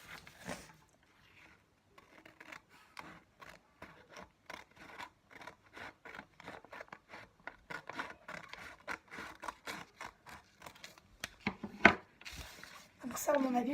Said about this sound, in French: ensuite vous allez prendre des ciseaux et découper sur la marque